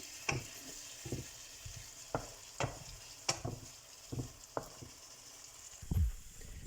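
Rice noodles with shrimp sautéing in a pan: a soft, steady sizzle broken by repeated scraping stirs at roughly regular intervals, near and fairly quiet, with no one talking.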